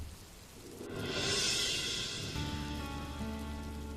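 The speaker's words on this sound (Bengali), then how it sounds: "বৃষ্টিটা দেখো কেমন সুন্দর পড়ছে" Rain patters steadily on a surface, swelling slightly in the middle, with a low hum and a faint steady tone entering toward the end.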